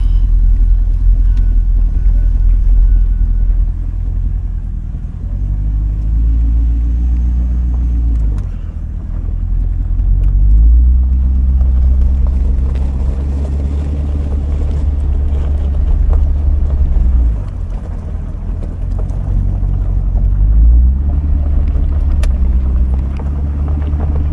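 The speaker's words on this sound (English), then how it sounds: "We're going to drive it in the grass so it's not so bumpy." A 2008 Chevrolet Corvette C6 with the LS3 V8 drives slowly across grass, its deep engine rumble rising and falling as it shifts, heard close with wind buffeting the microphone and no talking.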